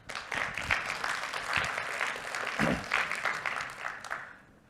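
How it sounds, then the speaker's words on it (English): An audience at a blockchain developer conference applauds a speaker with a full, even wash of clapping from many hands. A few sharper claps stand out before it tapers off at the end. "Give him a round of applause"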